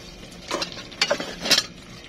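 A spoon stirs cauliflower and tuna frying in a pan, three short scraping strokes about half a second apart over a faint sizzle, close and fairly quiet.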